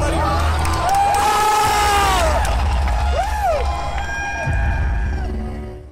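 A large audience at a Square Enix stage announcement for Final Fantasy 7 Remake cheers and whoops loudly, with excited shouts and yells rising above a continuous roar of applause.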